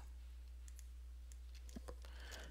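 Mouse clicks from adding subtabs in a LiveBinders web binder: a few light, sharp clicks scattered through the second half, close and quiet over a low steady hum.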